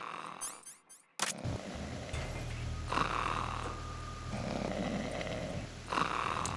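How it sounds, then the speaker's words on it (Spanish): A sleeping guard snores in the video game Metal Gear Solid 2, a slow, low rumbling snore drawn out over a few seconds, fairly close, following brief squeaky noises and a sharp click, with faint game ambience behind. "los ronquidos tapan el sonido de todo"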